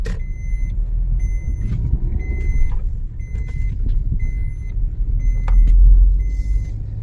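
A car drives along a road with a low, rumbling engine and tyre noise, while high, repeated electronic beeps chime at intervals.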